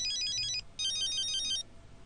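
A mobile phone ringtone rings out as two bursts of rapid, bright, warbling electronic tones with a short gap between them, clear and fairly close over a quiet room.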